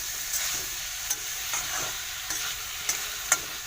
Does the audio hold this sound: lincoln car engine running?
no